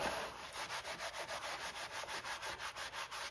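A cloth wipes gently over the cardboard surface of a vintage Kenner Knight Rider KITT toy box in quick, even back-and-forth strokes, a soft rhythmic swishing heard close and alone.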